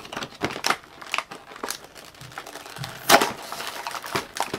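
Close crinkling and tearing of a Shopkins Season 3 blind pack foil wrapper being pulled open by hand, a series of sharp rips and rustles with short pauses, the loudest tear near the end.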